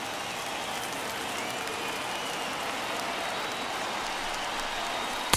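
A baseball stadium crowd of more than 31,000 stands and cheers at a Twins–White Sox game with the tying run at the plate, a broad, continuous roar of voices and clapping that stays loud throughout.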